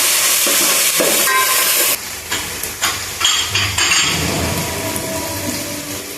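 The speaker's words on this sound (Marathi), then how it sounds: "कांदा चांगला गोल्डन ब्राऊन होऊ द्यायचा" Three large chopped onions fry on a tawa for pav bhaji: a loud, dense sizzle at first, then a run of rhythmic spatula scrapes and stirs as the hiss settles.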